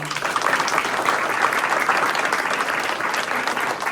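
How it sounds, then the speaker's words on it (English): A county candidate forum audience delivers a massive round of applause, loud, sustained clapping from many people, even and unbroken throughout. "I am going to ask the audience a massive round of applause for 3 things"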